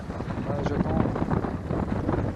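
Rough, gusty wind buffeting the microphone, a constant low roar with murmuring voices faintly underneath.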